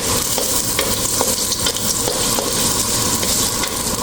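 Ginger sautés in a large pan, a loud, continuous frying sizzle with repeated stirring clicks from a utensil, close up and without talk.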